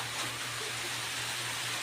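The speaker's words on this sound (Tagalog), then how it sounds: "Ang lakas na ulan." Heavy rain falling as a steady, continuous wash of noise, constant and unbroken, with a low hum underneath and no voices.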